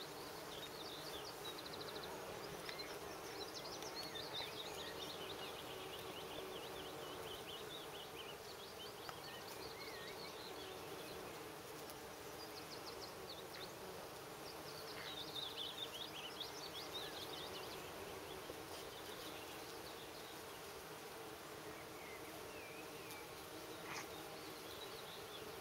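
Bees, wasps and other insects hum continuously around cotoneaster blossom in a permaculture garden, a soft steady swarm drone with occasional faint bird calls and no talking.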